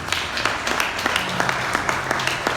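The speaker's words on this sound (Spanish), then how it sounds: "Por favor, un aplauso para él." Audience applause at a university book presentation welcoming an anthropology museum director, moderate clapping with distinct individual claps audible in an irregular patter, fairly close and steady.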